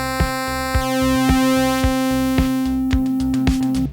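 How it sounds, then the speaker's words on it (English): A Moog Voyager analog synthesizer holds a bright sustained harmonic tone while a thumping low note repeats about every half second in a steady pulse, loud and close, with no voices. "Here, I'll be using a Moog Voyager analog synthesizer."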